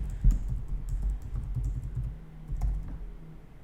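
A domain name is typed on a computer keyboard in a quick, close run of soft key clicks that thins out toward the end, with no voices.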